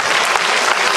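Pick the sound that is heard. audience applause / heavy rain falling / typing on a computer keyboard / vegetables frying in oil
audience applause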